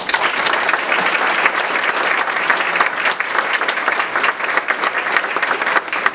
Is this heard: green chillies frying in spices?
no